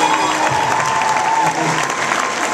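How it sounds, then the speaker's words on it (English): Audience applause fills a large awards ceremony hall after a band finishes their song, dense and steady clapping with some crowd noise, loud and continuous throughout. "A big round of applause there for the watcher"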